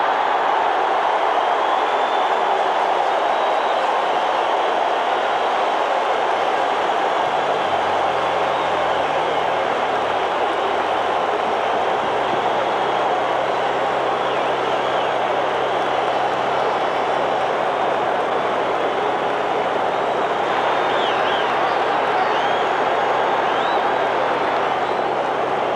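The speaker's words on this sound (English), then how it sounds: "Carlton should get a nice hand as he walks off. The crowd's starting to react already." Baseball stadium crowd at a 1980 World Series game in Philadelphia, a loud, sustained broad roar of cheering and applause for pitcher Steve Carlton leaving the mound, steady throughout with no break.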